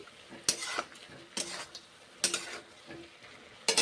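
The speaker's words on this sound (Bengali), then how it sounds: "ভেজে নেওয়ার পরে এখন কষে নিচ্ছি" Green banana, papaya, cauliflower and bitter gourd being sautéed in a pan, a constant sizzle broken by four bursts of spatula scraping and clattering against the metal at a slow regular pace, close up with no speech.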